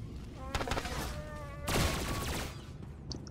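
In Star Wars: The Old Republic, a Smuggler's Penetrating Rounds ability fires a rapid burst of blaster shots in two volleys, sharp repeated cracks layered over electronic hum and game effects, while a voice talks through it.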